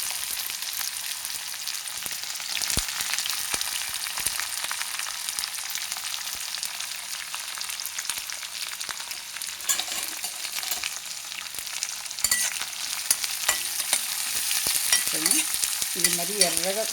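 Onions, green chillies and coriander frying for potato masala, a dense steady sizzle close up with occasional spoon taps and scrapes against the pan, continuous and without talking.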